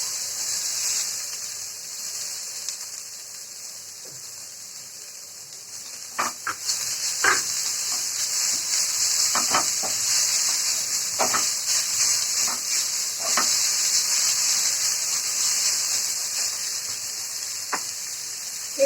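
Chhana (cottage cheese) added to hot oil with ginger paste and stirred in a pan while cooking potol dorma, a steady sizzle broken by sharp scrapes and clinks of the spoon against the pan.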